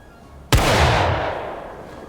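A single rifle shot from the Civil War video game War of Rights, one sharp, loud crack followed by a long, fading rumble of echo over about a second and a half, with no voices.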